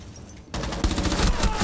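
Rapid gunfire erupts in a dense, loud burst of overlapping shots during a firefight in the video game Rainbow Six Siege, starting abruptly after a quieter moment.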